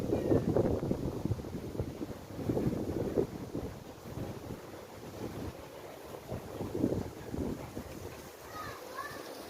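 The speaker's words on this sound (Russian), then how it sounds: "просто ледяной ветер" Icy wind gusting outdoors near Sochi, buffeting the microphone with low rumbling surges that rise and fall throughout, close and steady.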